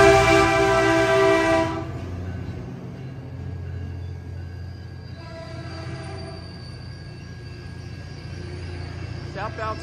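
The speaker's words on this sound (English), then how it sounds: "we got a Southbound Caltrain" A loud train horn blasts for a couple of seconds, then southbound Caltrain #628 rumbles and rolls past with rail noise arriving at San Mateo station while someone talks over it.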